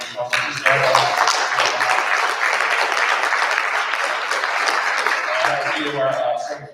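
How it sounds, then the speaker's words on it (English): A round of applause at a Winslow Township school board meeting, many people clapping steadily indoors for several seconds, fairly loud and dense, with a voice heard briefly before and after the clapping. "Just give a round of applause."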